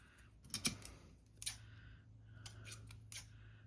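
Scissors snip through a paper banding strip in several crisp, close cuts spaced out over a few seconds, with a faint steady hum beneath.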